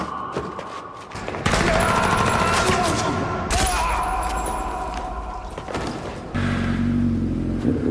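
Gunfire in a film shootout as a woman fires on a triad gang: loud bursts of rapid shots and heavy thuds in several clusters separated by brief pauses, close and forceful.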